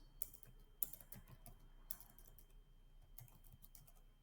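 Quiet typing on a computer keyboard, irregular soft key clicks with a few sharper taps, fairly close with a low steady hum beneath and no talking.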